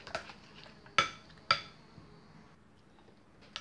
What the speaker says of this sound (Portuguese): Ó, mistura o creme de leite.